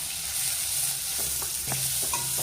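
Onions with a little salt sizzle steadily in a hot pan for Chettinad-style Karaikudi sukka, with a few light clinks and scrapes of stirring breaking through the frying hiss.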